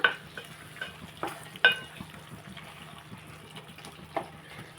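Brinjal and raw mango curry stirred in a pan with a spoon, a few separate soft scrapes and wet clatters spaced across a few seconds over a faint low hum.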